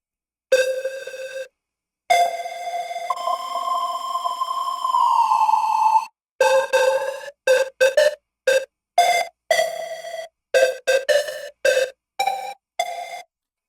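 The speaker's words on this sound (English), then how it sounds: "So this is what the lead sounds like." A bright synthesizer lead plays a melody of short, staccato notes broken by pauses, with one longer held tone that bends upward, alone and up close.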